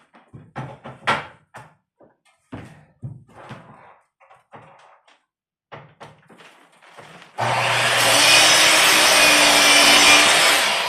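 Scattered knocks and handling sounds of a piece of wood for a cabin's front door lead into a loud, steady sawing that runs without pause for the final few seconds.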